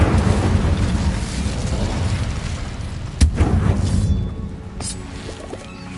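Incendio fire spell cast in Hogwarts Legacy, a loud rumbling whoosh of flames with booming bursts and a sharp crack midway, fading toward the end.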